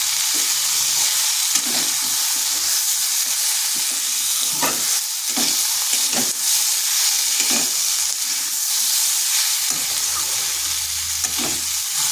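Potato and pointed gourd frying with turmeric, cumin, coriander and chilli powder on low heat, a steady close sizzle with intermittent scraping stirs of a spatula in the pan, no talking.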